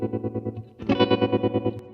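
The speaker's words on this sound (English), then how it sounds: "he hits the tremolo pedal on really fast tremolo with a hard edge, and he hits it on just on certain chords" Guitar chords played through an Ibanez Tremolo Mini pedal set to a fast, hard-edged tremolo, loud and close, chopping the tone into rapid even pulses, with a brief pause before a fuller chord kicks in and keeps pulsing.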